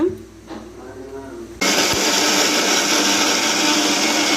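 After a quiet start, a kitchen mixer grinder starts abruptly and runs at a steady loud whir, grinding garlic, ginger and green chillies into a smooth paste.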